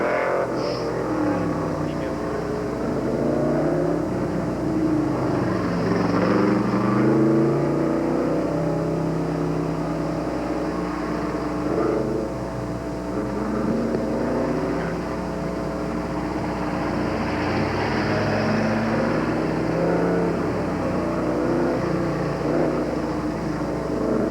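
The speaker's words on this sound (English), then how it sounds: "Now starting the course, car number 5, Corvette." A Corvette runs an autocross course at the 1988 Canadian Solo 2 Nationals, its engine droning and revving steadily through the whole stretch, rising and falling with gear changes, with faint background noise.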